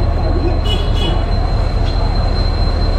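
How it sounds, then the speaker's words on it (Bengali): The Howrah Puri Superfast Express rolling into a station platform, a loud continuous low rumble of wheels on rails with a steady high squeal and brief metallic screeches over it. "One 2-3-8-7 Howrah Puri superfast express ঢুকিয়ে দিয়েছে 23 নম্বর প্ল্যাটফর্মে 9টা 51-তে।"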